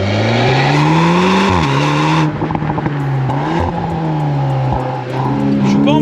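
A Volkswagen Golf 8R 20 Years limited edition with an Akrapovic exhaust, driven hard on paddle shifts: a loud, close engine note climbing through the revs, then a sharp shift and a rough, crackling exhaust sound as it pulls again, with no talk.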